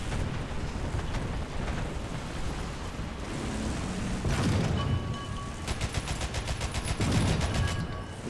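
Gunfire roars through a War Thunder tank battle, attributed to a 3-gun motor carriage: heavy, continuous blasts and rumble give way to a rapid, evenly spaced stream of automatic shots in the later seconds, loud and close.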